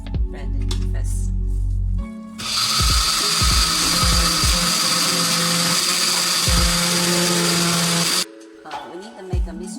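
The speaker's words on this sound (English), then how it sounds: "Pour some water, blend it first." A blender whirs steadily for about six seconds, grinding soaked rice with water into a smooth batter for seafood rice flake soup, then cuts off abruptly, with quieter kitchen sounds before and after.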